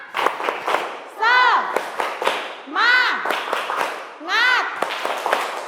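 A classroom of children doing tepuk semangat, the rhythmic spirit clapping, in crisp patterned bursts while a teacher's voice and children's chanting rise between and over the claps.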